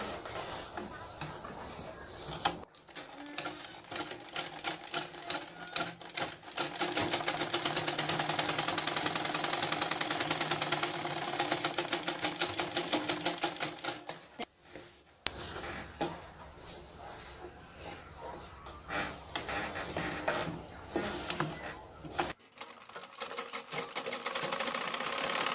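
A sewing machine stitches the lining of a blouse in long steady runs of rapid, even needle clatter. The runs are broken by short pauses, and someone speaks softly now and then.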